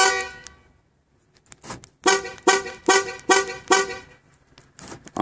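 A 1997 Ford truck's horn honks in quick repeated toots as the key fob is pressed, a cluster of five or six loud bursts after an initial short beep, close by.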